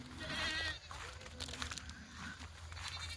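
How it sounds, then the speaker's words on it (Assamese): Goats bleating at a farm house, several calls scattered through the clip over low rumbling background noise and faint voices. "ছাগলীকেইজনী"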